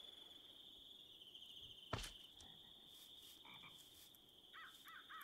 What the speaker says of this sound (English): Those are the weird frogs. They make squeaky noises when you kill them.